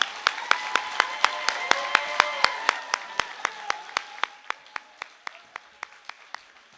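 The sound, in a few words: audience applause at a graduation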